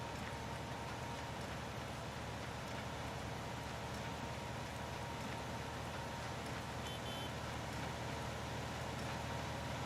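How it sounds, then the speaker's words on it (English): Steady rain falls in Farming Simulator 19 on the Erlengrat farm map, a continuous broadband hiss at low level with no breaks, with faint mechanical hum beneath. "And it's still pissing rain."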